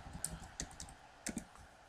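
A computer keyboard being typed on, quiet and close, with a few separate clicky keystrokes in small uneven clusters and no talking.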